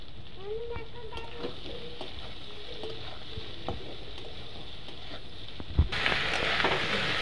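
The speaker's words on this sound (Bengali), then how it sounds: "সেদ্ধ করা নুন দিয়ে এঁচড়গুলোকে একটুখানি ভেজে নেব" Boiled green jackfruit fries in hot oil in a wok with a steady sizzle and occasional stirring scrapes, and the hiss grows louder toward the end.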